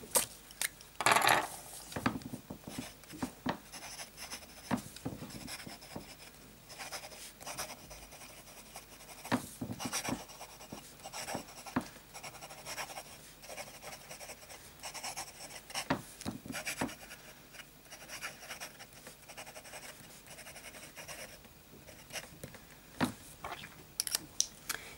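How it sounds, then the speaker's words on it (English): A fountain pen writing fine strokes on absorbent paper, heard up close as continuous scratchy, papery scraping with short gaps and taps between strokes. "Let's start with some fine writing."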